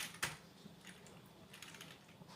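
Someone types code comments on a computer keyboard, a quick run of close, light key clicks with one sharper tap near the start.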